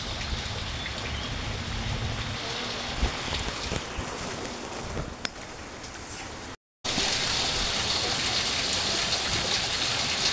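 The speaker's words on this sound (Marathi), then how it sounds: "तर वादळी वाऱ्याचा पाऊस पडायला लागला आहे बघा." Heavy unseasonal rain pours down with stormy wind, a dense broadband roar that holds steady except for a brief dropout, then resumes even louder.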